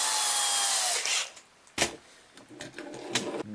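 A power drill whirs continuously while boring into a game controller, then stops, followed by close knocks, clicks and handling sounds.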